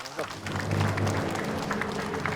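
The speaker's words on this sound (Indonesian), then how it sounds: "Boleh kita berikan tepuk tangan ya." An audience claps for a guest being invited on stage at a talk show, a brief burst of applause mixed with voices and some tonal background sound.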